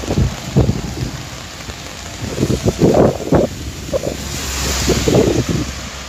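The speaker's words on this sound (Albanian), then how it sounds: "Më pëlqen edhe vetë pjesa e shiut" Steady rain hisses over an open city street in Berat, Albania, with gusts and low rumbles swelling and fading beneath it.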